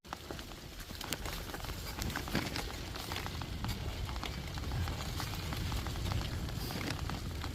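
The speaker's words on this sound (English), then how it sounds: "And it's starting to rain," Light rain sprinkling during a bike ride on the C&O Canal towpath in Maryland, a steady dense patter with scattered drop ticks, even and fairly close throughout.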